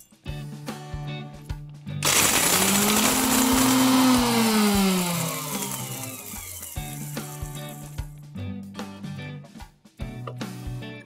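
A mixer grinder blitzes green and black cardamom, black pepper, cloves, cinnamon and black cumin seeds into garam masala powder, a loud continuous whirring roar lasting several seconds with rattling spice chatter, framed by quieter clinks before and after.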